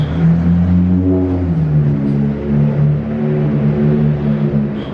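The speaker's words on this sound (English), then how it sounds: "after this loud car leaves" A loud car passing close by with a low engine rumble and slight revving as it drives away outside a poker room, steady and prominent throughout with no talk over it.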